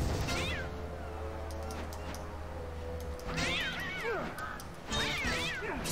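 Cats meowing repeatedly in the Sphinx and the Cursed Mummy video game, several rising and falling meows layered over game ambience and a low hum, with a brief crash partway through.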